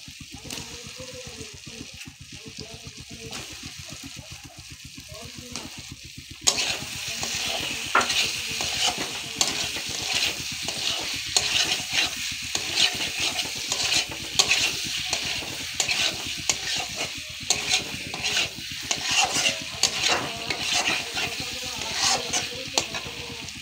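Cut potatoes frying in spiced masala for an egg curry, a loud steady sizzle that jumps up as they hit the oil, with repeated stirring scrapes running throughout.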